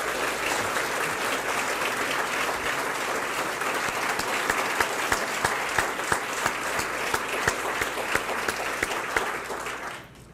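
Sustained audience applause at a 2018 State of the City address, a dense, steady wash of many hands clapping that holds loud for about ten seconds before trailing off at the end.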